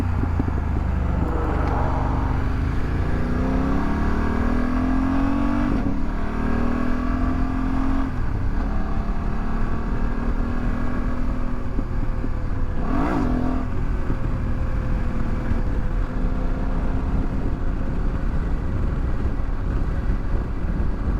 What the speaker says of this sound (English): Fourth gear is too low, bro. I'm not revving it high enough.